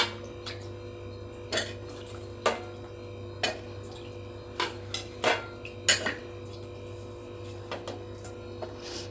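A ladle knocks and scrapes against a pot while cooked bottle gourd is stirred and mashed, giving irregular sharp clacks every second or so over a steady low hum, close and moderately quiet.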